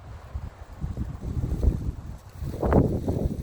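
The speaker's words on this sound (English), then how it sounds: "Boy, that wind is really picking up, huh?" Gusty wind buffets the microphone in low rumbling surges in snowy northern Maine woods, building to a stronger blast near the end; no one speaks.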